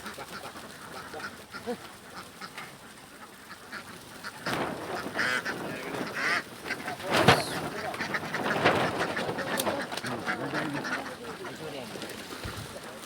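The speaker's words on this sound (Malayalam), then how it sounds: "ആ വണ്ടിയിലത്തെ അവസാനത്തെ താറാവും ഇറങ്ങിയിരിക്കുകയാണ്" Farm ducks jump down from a vehicle's opened doors into a paddy field, their quacking swelling into a loud, dense chorus toward the middle. Voices talk over the birds.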